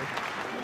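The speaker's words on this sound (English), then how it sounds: "The crowd here at Ota War Gymnasium in Tokyo showing their appreciation." Applause from a professional women's wrestling crowd at Ota Ward Gymnasium in Tokyo after a hard-fought Stardom title match, a steady broadband clapping wash under commentary.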